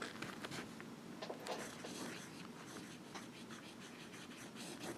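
A Lamy Safari fountain pen with a medium nib and turquoise ink scratching across paper, a continuous close, soft scratchy writing sound with small stroke pulses and no talk.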